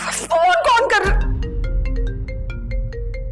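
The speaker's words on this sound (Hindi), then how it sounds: "फोन कौन कर रहा?" An electronic phone ringtone plays a bright, repeating melody of short tones after a brief burst of speech at the start.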